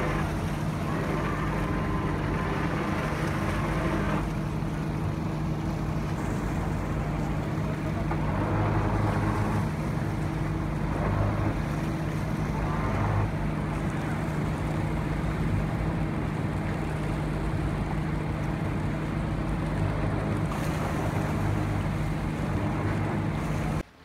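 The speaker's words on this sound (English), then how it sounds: "I think their plan was to transfer her to the Coast Guard boat that also arrived." A Coast Guard boat arrives at sea during a rescue of a woman who fell from a passenger ship. Its engine drones continuously under steady wind and rushing waves, loud and close throughout.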